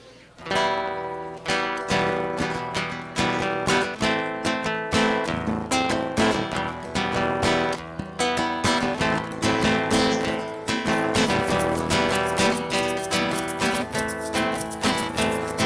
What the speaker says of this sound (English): asked us to make a song about a timeline we were writing